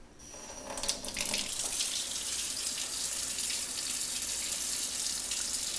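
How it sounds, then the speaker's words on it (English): A faucet fitted with an OPURA ozonated water device is turned on to produce aqueous ozonated water. A brief click comes first, then a steady, close, hissing rush of running water continues to the end. "When we actually turn the faucet on and we start producing aqueous ozonated water"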